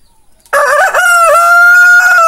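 A rooster on a simple rural farm crows loudly and close by in one long, strained call that lasts nearly two seconds after a brief quiet start.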